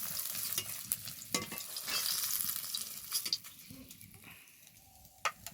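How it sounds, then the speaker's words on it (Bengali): Fish frying in hot oil in a pan, cooked for a fish and arum root curry, gives a steady close sizzle broken by occasional sharp scrapes and clinks. "এই মাছগুলো খুব ভালোভাবে ভাজা হয়ে গেছে"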